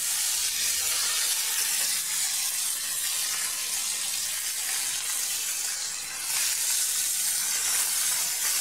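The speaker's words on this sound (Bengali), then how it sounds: "এবার মাছ ছাড়িয়ে দেবো।" Marinated pieces of small freshwater murola fish go into a pan of hot oil. A dense, even, loud sizzling hiss runs unbroken throughout, close by and with no voices.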